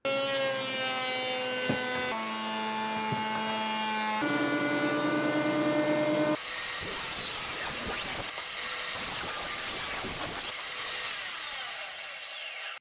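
A planer works rough, dry pallet wood with a loud, steady machine whine, the pitch shifting between passes before turning to a harsher, noisier cutting roar.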